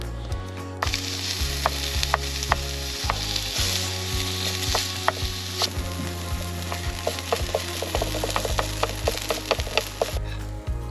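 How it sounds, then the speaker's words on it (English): Sausage sizzles steadily in a pan at a truck bed camping setup, a dense close frying hiss punctuated by repeated scraping and clacking strokes of a utensil against the pan. "I forgot I decided to cook the sausage in here"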